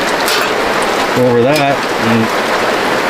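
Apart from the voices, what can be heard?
heavy rain falling into a bucket at camp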